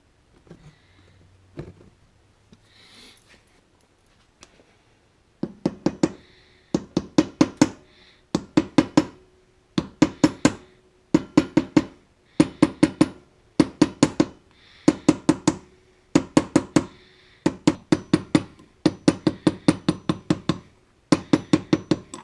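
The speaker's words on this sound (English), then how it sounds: "I'm going to do that with a hammer on the anvil of the vise here" A hammer strikes a metal plug held on the anvil of a bench vise while repairing the leaking pump of a Thermos 8326 lantern and stove, with steady, evenly spaced sharp metallic taps, some in quick doubles, close and loud after a few quieter early knocks.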